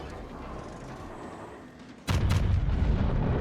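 A Conqueror battleship in World of Warships fires a salvo of armour-piercing shells midway: a sudden, loud, heavy boom that rolls on in a dense roar after quieter, rumbling battle ambience.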